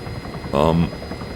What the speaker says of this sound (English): I'm gonna show you how easy it is with those helicopters to hover now.